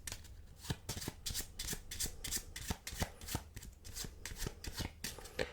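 Playing cards being shuffled by hand, a steady run of crisp flicks and slaps, close and fairly quiet, with no talking.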